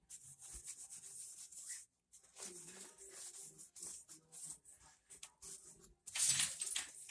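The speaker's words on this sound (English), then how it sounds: "So I'm using the 2000 grit sandpaper and just wet sanding some of these imperfections." Wet sanding with 2000 grit sandpaper makes soft, faint, rhythmic rubbing strokes in short repeated bursts, separated by brief pauses and ending in a slightly stronger pass.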